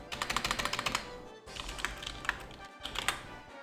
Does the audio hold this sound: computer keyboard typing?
yes